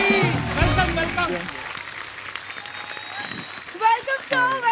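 Studio audience applause on a comedy show rises around a host's cheerful talk, the clapping a soft wash beneath speech that resumes clearly near the end.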